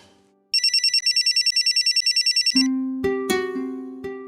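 A phone ringtone ringing in a Hindi TV drama, a rapid series of high electronic beeps repeating for about two seconds, then a louder melodic chime tune.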